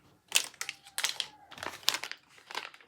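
Plastic packaging of a small toy is handled and crinkled up close, giving irregular bursts of crisp crackling with short pauses between them.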